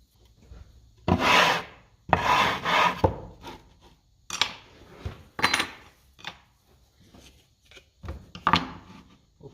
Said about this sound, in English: I gotta put a backer board